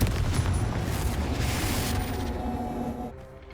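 A Confringo spell explosion in Hogwarts Legacy erupts as a loud, rumbling fiery blast that fills the opening seconds, then fades into a crackling tail by the end.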